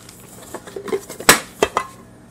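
Aluminum mess kit pots are handled up close, giving a few light metallic clanks and rattles, one sharper knock near the middle, with no talk.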